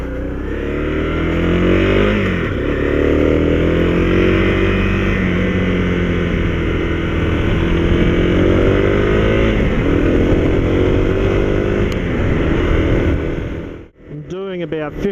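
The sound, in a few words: Honda CRF250L motorcycle riding up hills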